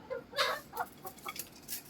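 Close, bright clucking from a young rooster brought out of its coop on a farm, several short uneven calls spaced across a couple of seconds against a quiet background.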